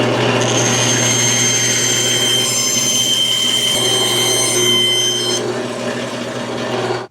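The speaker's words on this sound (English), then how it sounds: "So I'm going to run it on the bandsaw." A woodworking bandsaw cuts freehand through wood down a drawn line, its blade whining loudly and steadily for several seconds before the motor winds down at the end.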